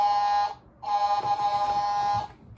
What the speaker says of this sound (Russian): Смотрите, я сейчас посигналю всем